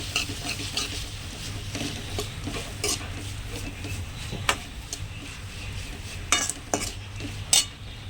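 Spiced boiled basmati rice being stirred in a pan with red chili powder, a soft steady sizzle under repeated scraping strokes and a few sharper utensil clinks against the metal, close and alone.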